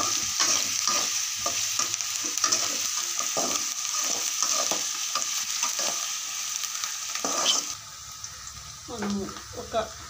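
Crushed ingredients frying in a pan for a home-style fish curry, a dense, close sizzle with rapid spatula stirring and scraping that quiets near the end as a brief voice is heard.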